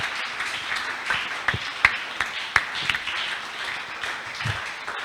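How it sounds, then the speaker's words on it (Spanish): A church congregation applauds during a sermon. The clapping is moderate and somewhat distant, with scattered sharper claps standing out over a softer, steady patter. "Denle un aplauso al Señor, por favor"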